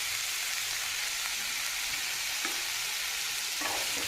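Cauliflower and potato with turmeric and salt stirred in a hot pan, a steady loud sizzle with occasional scraping strokes of the spoon, close and continuous throughout.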